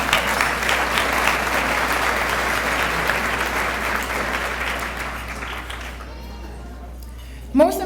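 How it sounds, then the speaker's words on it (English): A crowd at a 2016 university senior banquet gives a big round of applause. The loud, sustained clapping fades out near the end, and a voice briefly speaks as it dies down. "let's just give them a big round of applause"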